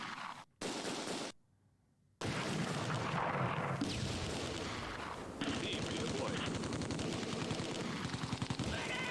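Sustained heavy gunfire in the Close Combat 2 World War II game, a loud continuous din of machine-gun and rifle fire with artillery rumble, broken by a short silent gap near the start.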